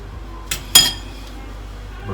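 Brownie batter going from a bowl into a baking pan, with two brief utensil-on-pan clinks, the second one louder, over an otherwise quiet kitchen.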